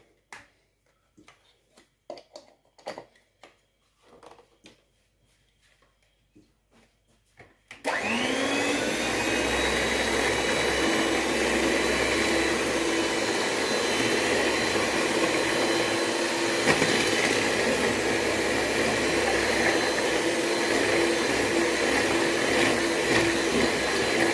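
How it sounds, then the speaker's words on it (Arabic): Lemon cake batter ingredients being mixed with an electric mixer or blender, a loud steady whirring motor that starts abruptly after a few seconds of quiet kitchen clatter and runs continuously to the end. "غادي نخلطوا هاد المقادير مزيان كما كتشوفوا حتى تندمج مع بعضها مزيان"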